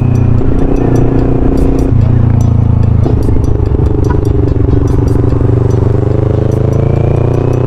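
A Bristol Venturi 500 motorcycle engine drones loud and close while riding, its note stepping through gear changes against steady rushing road and wind noise.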